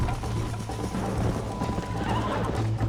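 A horse in Red Dead Redemption whinnies and neighs while hooves clip-clop at a gallop, loud and continuous over game ambience for a few seconds.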